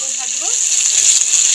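Onion and chili frying slowly in hot oil, a steady close sizzle with a bright hiss running throughout.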